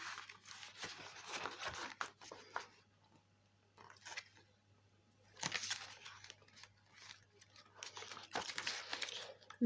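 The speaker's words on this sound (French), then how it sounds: "tu vas pouvoir le feuilleter" Pages of a handmade booklet that passed through many hands are leafed through, giving soft papery rustles and crinkles in several quiet bursts with short pauses between.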